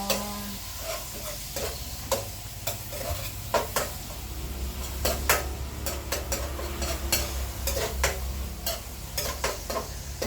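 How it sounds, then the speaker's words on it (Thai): Garlic and coriander root fry in a pan with a steady sizzle, while a utensil stirs and scrapes against the metal in frequent sharp clicks close by. "เจียวกระเทียมกับรากผักชีก่อนค่ะ"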